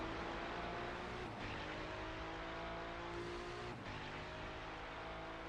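A black McLaren race car in a sim racing game drones along at high revs, a steady, fairly quiet engine tone with two brief dips as the throttle lifts, and no voices.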